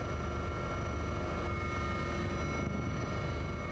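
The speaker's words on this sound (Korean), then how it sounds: "헬기 소음 때문에 의사소통이 쉽지 않아" A coast guard helicopter over the sea near Yeongjong Island, Incheon, roars steadily from inside the cabin, a loud constant engine whine and rotor thrum filling the clip without a break.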